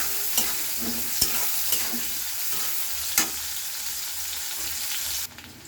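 Chopped onions fry in hot oil in a pan for a Bangladeshi surma fish dish, a steady broadband sizzle with a few sharp spoon clacks as they are stirred, close and fairly loud, cutting off abruptly near the end.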